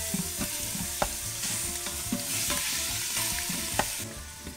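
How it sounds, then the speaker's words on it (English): Ground beef sizzling in an Instant Pot on the saute setting, a steady crackling fry broken by sharp clacks of a utensil stirring and chopping the meat, close and moderately loud. "Ground beef that we're gonna place into the pot, and be careful, it's going to sizzle."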